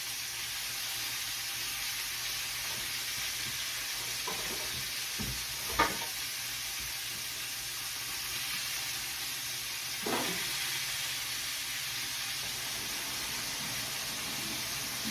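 Steak sears in a cast iron pan with a steady, soft, hissing sizzle throughout, with a couple of brief clinks and scrapes, faint and continuous with no voices.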